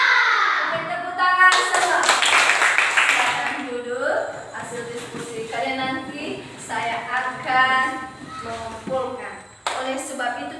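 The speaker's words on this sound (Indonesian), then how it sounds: "tepuk tangan semua" Schoolchildren in a classroom clap their hands in bursts of rhythmic group clapping, close and lively, interleaved with children's voices and a teacher talking.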